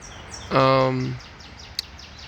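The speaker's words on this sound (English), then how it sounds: "There's one of my crows." A single loud, harsh crow caw rings out nearby, followed by a faint short chirp and quiet outdoor ambience.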